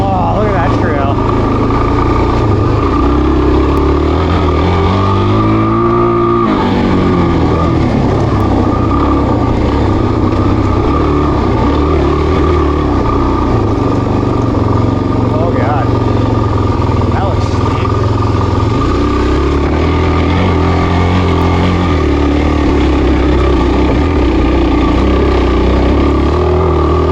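A Suzuki DRZ400 dual-sport motorcycle rides a sandy, loose Mojave desert trail, its engine droning loud and constant with shifting revs and heavy wind rumble throughout.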